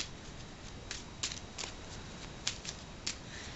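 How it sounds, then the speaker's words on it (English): A deck of playing cards is shuffled quietly up close, with soft riffling bursts and sharp little snaps over a steady hiss. "Here we have a deck of cards, all random. I'll even give them a shuffle"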